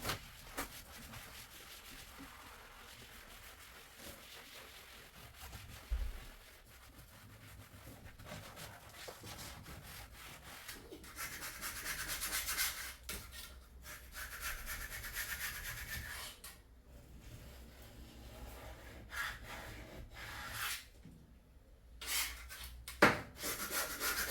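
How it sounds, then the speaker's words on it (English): A kitchen tool used as a scraper rubs and scrapes steadily across a surface, a close, continuous rasping texture with uneven strokes and brief pauses, no talking. "I am using a kitchen tool as a scraper."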